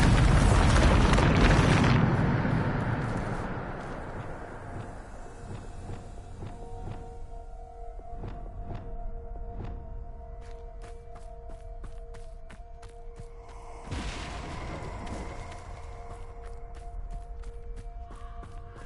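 A big magical blast from the Bombarda spell in a Harry Potter game, a loud booming explosion with rumbling debris that fades into scattered crackles and clinks, followed by a second, smaller burst.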